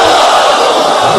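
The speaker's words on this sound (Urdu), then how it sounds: "اب باہر سے صلوات پڑھ کے دکھائیے اگر آواز آ رہی ہے تو" An audience reciting salawat together in unison at a religious gathering: a loud, dense wash of many voices chanting at once, heard briefly and alone.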